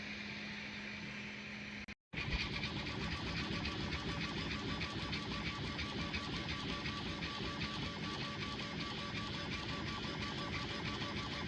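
A Bambu Lab A1 Mini 3D printer runs at 166% speed with a steady high whirring buzz, cutting out for a split second before resuming at a constant pace.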